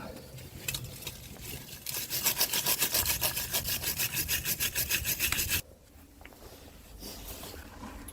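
A Mercedes brake disc being scrubbed clean, a rapid, loud rasping rub that runs steadily for about five seconds and then stops, leaving quiet workshop background.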